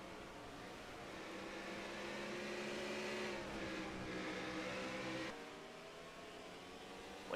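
Race car engine in a racing game held under feathered throttle up a hill at Sonoma, a steady droning whine that rises slightly then drops sharply near the end, moderately loud and alone.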